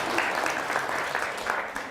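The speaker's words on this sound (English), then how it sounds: "Big round of applause" An audience at a professionally filmed talk on consulting applauds a speaker being introduced, a dense, steady wash of clapping throughout with no voices on top.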